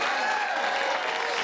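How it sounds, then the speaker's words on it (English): A comedy club audience breaks into a short, dense burst of clapping that stays loud and even from start to finish, with a faint murmur of the crowd mixed in. "Thank you for clapping for them for no reason."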